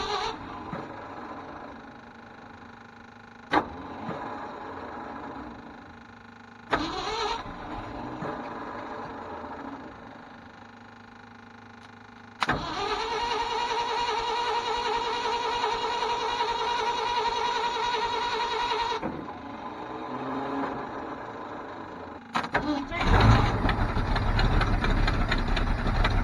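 Ford F800 truck with a broken 429 V8 cranking through a crossed starter: loud mechanical churning in long sustained bursts separated by pauses, with sharp clicks at each start, and a louder rough surge at the very end.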